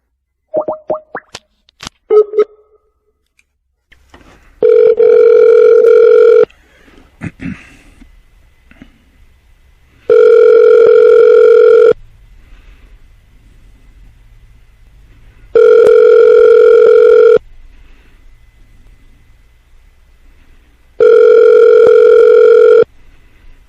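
An outgoing phone call rings four times in long, evenly spaced bursts after a few brief beeps and key presses, loud and close, with no one talking.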